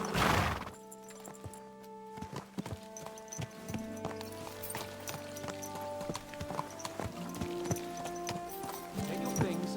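Horse hooves clip-clopping at a steady walking pace in Kingdom Come Deliverance 2, close and rhythmic beneath spoken game dialogue and background music.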